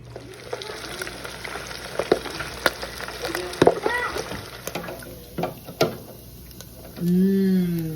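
Pieces of pork fat fry in a pan for posole rojo, crackling and spattering with scattered sharp pops and clicks up close, ending with a brief low humming tone.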